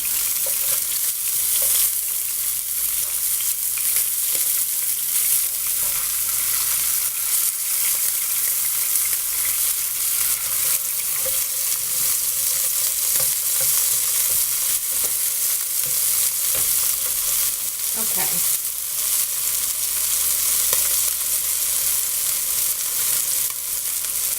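Large scallops sear in oil in a frying pan, giving a loud, steady, close hiss and crackle that holds unbroken for the whole stretch, with faint scraping of the pan.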